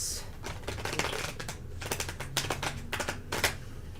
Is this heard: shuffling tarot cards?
yes